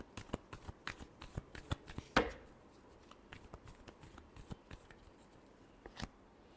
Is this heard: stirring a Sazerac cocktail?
no